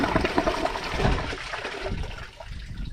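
A 2009 Kohler Wellworth toilet flushes a microfiber rag with a loud, rushing gush of water that swirls and then fades toward a quieter trickle near the end.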